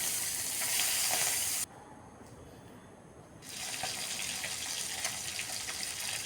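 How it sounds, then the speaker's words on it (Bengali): Bata or rohu fish pieces fry in a little oil in a pan with a loud, steady sizzle that drops briefly and quiets for about two seconds before returning at full strength; no voices. "বাকি মাছগুলোও এখন একইভাবে ভেজে নিচ্ছি।"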